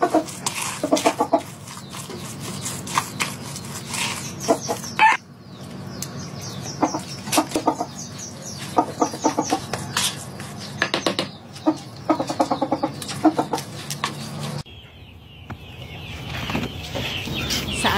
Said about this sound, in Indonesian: anaknya memberi makan ayam-ayam.